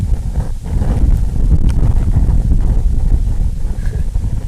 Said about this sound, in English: cooking is a little bit difficult in this wind